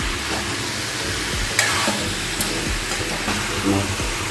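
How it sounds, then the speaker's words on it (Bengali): Jackfruit and chicken curry with fried potatoes sizzles in a pan while a spoon stirs it, giving a steady close frying hiss with repeated scraping strokes and a couple of sharper clinks. "আমার কষানো হয়ে গেছে এঁচোড় চিকেন।"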